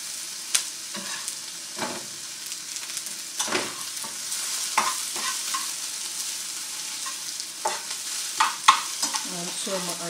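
Square sausage and onions fry in a pan, a continuous soft sizzle with repeated scraping and stirring strokes throughout, close up, with no one talking.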